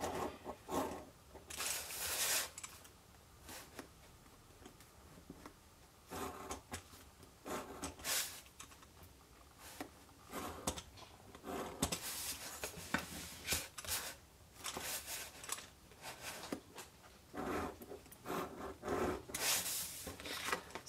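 A steel ruler guides a blade scoring lines into paper for a stamped milk-carton craft, giving faint, close rubbing strokes that repeat in short bursts with brief pauses between them.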